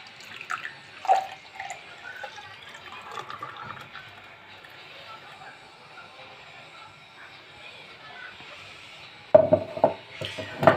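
Freshly made, strained lemon juice poured into glasses, a soft trickle and splash that grows louder and sharper near the end, with faint room sounds and no speech.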